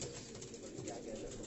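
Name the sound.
cooing Jaunsari breed pigeons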